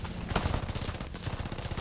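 Rapid bursts of .30 caliber machine gun fire in the War Thunder combat game, a fast rhythmic stream of sharp shots at moderate volume, without speech.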